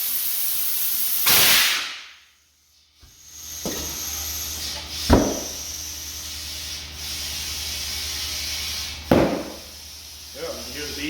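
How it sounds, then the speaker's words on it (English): Compressed air hisses loudly as a tire bead seats onto the rim of a 1979 Lincoln Continental wheel, with a pause and then several sharp pops and bursts of air close up. "Hear the bead seat?"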